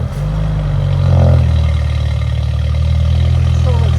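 A 2018 BMW 530i with a 2.0L turbo engine and a muffler delete idles with a deep, steady rumble and swells briefly as it revs, under a person speaking.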